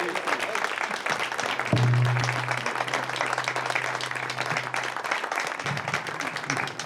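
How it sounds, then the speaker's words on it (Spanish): Audience applause for an author at a historical-novel event fills the room as a steady patter of many hands, mid-distance, with a low electrical hum sitting underneath for a few seconds. "ahora vamos a dar un aplauso aquí a nuestro autor"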